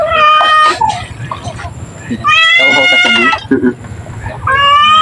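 A cat meows loudly up close, giving several drawn-out, wavering cries separated by short pauses.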